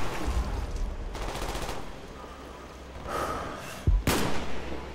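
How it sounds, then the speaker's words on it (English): Sniper rifle fire in Call of Duty Black Ops, a few sharp, loud shots spaced over several seconds, the last one hardest, set against bursts of gritty game noise. "This is what I have the sniper for."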